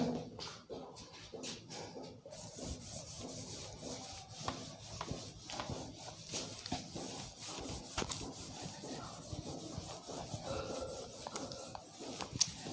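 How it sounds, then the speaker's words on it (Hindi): A board is erased during a maths lesson, making quiet repeated rubbing strokes with a rasping, scratchy rhythm. "इसे इरेज कर दें"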